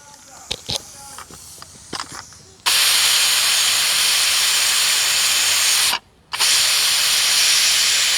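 A pressure cooker of beef releases a loud, continuous jet of hissing steam at close range. The hiss cuts out briefly and then resumes, after a short stretch of voices and clatter at the start.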